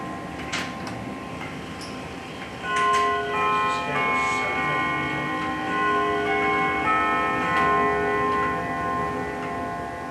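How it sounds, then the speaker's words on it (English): Clocks in a watch and clock repair shop, soft steady ticking followed by chime rods struck by hammers, ringing tones that overlap and sustain for several seconds, fairly close. "you can watch the hammers as they hit the chime rods"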